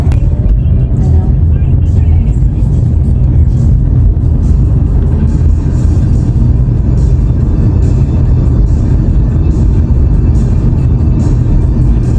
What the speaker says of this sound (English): we're now in the rental car on the way to the hotel